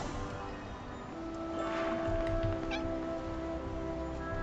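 Cat in the Infinity Nikki video game, meowing faintly at a middle distance over a steady background of game ambience and low rumbling noise, with no talk.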